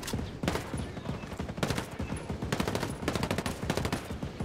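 Rapid automatic gunfire in the video game Ghost Recon Breakpoint, loud sustained bursts of closely spaced shots with brief gaps between volleys.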